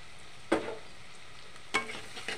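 Ground spices with ginger, garlic paste, red chili and a little tomato paste frying with onions in a pan for mutton curry, a soft sizzle broken by a few sharp scraping stirs, close and fairly quiet.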